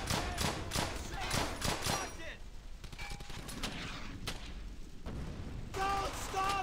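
Bursts of rifle and machine-gun fire in the World War II shooter Brothers in Arms Hell's Highway, sharp shots clustered early then scattered cracks and distant booms, with voices shouting over the fighting.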